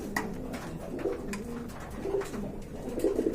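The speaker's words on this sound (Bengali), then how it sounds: "এইখানে রয়েছে আরেক জোড়া বোম্বাই কবুতর" Bombay pigeons coo close by in repeated low, throaty phrases, roughly one each second, over a faint background hum.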